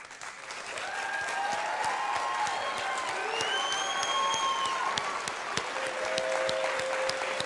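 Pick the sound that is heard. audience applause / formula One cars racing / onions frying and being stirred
audience applause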